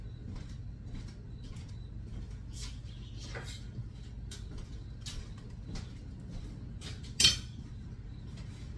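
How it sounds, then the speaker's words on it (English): Faint, irregular knife taps on a cutting board while chopping walnuts, several sharp clicks spaced apart over a low background hum, with one louder knock near the end. "And get a knife and we'll start chopping."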